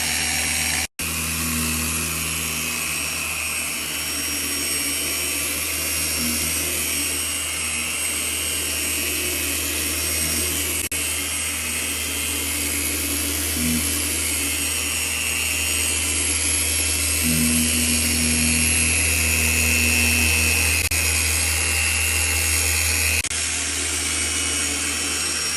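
A power polisher running at speed 3 works buffing compound slowly across a car headlight, giving a steady, continuous hum and whir that holds evenly throughout with no talking.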